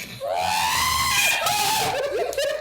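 A voice imitates a small droid screaming, a high, wavering shriek that rises and falls continuously for nearly three seconds, loud and close.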